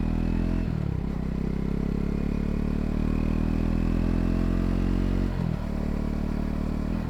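A Triumph Speed 400 motorcycle engine pulls hard on an open road, a loud, steady mid-pitched drone rising in revs with two brief dips around gear changes, close to the rider with wind rush throughout.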